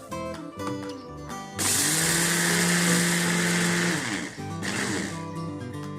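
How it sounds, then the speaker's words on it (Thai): An electric grinder whirs loudly and steadily for about two seconds while grinding roasted peanuts with roasted black and white sesame seeds, its tone dipping slightly under load before it stops, with softer kitchen noise before and after. "ถั่วมาใส่เครื่องบดนะคะ บดค่อนข้างละเอียดนะคะ"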